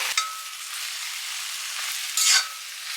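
Tomato masala with salt, turmeric and chilli powder sautéing in a pan, a steady bright sizzle that swells in two brief louder bursts as it is stirred.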